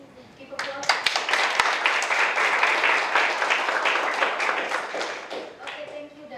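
Lecture audience applauding at the close of a labour economics talk on field experiments on discrimination, sustained dense clapping starting abruptly and holding steady for several seconds, fairly close, with no talk over it.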